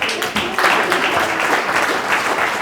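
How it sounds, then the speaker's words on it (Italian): An audience applauds at a cultural happening in an arts space in Vittorio Veneto, a loud, close burst of clapping that builds quickly after a short dip and stays dense to the end. "Ma glielo fate un applauso, bravo."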